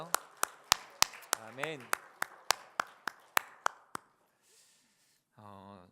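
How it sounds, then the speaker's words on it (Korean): A congregation at a Korean church's Friday worship service claps in a steady, rhythmic beat for about four seconds, mingled with a voice in the middle. It then falls quiet before a person speaks. "우리의 찬양과 영광 받으신 하나님께 우리 다시 한번 큰 박수 올려드릴까요?"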